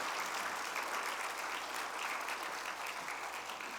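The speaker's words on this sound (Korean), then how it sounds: "자, 우리 박수해 주시겠습니다." A church congregation at a revival meeting applauding together, a dense, even wash of many hands clapping, steady and somewhat distant, with no pauses.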